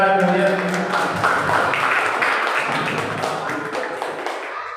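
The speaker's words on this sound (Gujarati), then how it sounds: "એકવાર જોરદાર તાળીઓથી ગડગડાટ કરીએ." A seminar audience on exam preparation and parent dialogue claps loudly and steadily, with a voice heard at the start and the applause gradually thinning toward the end.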